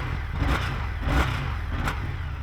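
An Indian FTR motorcycle engine idling through an exhaust with one outlet per cylinder, heard up close as a deep, loud throb with a few brief swells.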